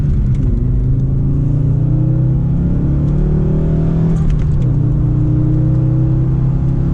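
An Audi coupé GT engine revs as the car accelerates, a loud steady droning rumble heard from inside, rising in pitch, dipping briefly at a gear change, then climbing again, with no talk.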